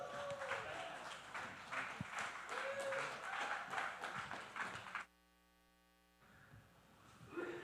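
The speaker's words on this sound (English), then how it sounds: "Let's give them a big round of applause and welcome." Audience applause welcoming a three-person panel at an NFT conference session on the outdoors, faint and steady with some voices mixed in for about five seconds, then a sudden near-silent gap before the room sound returns.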